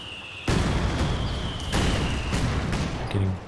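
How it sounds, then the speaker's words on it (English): Heavy booming mortar explosions from the video game Company of Heroes 2 crash in repeatedly, several loud blasts in a row with rumbling decay, alongside a sustained high tone from game audio. "Getting blasted down by the double mortars."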